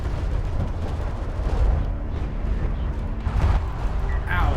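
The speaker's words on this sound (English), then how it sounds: "Here's the artillery, though." An artillery barrage in the strategy game Homeworld: Deserts of Kharak, deep rumbling booms and blasts rolling continuously, loud and heavy, with a voice talking over it.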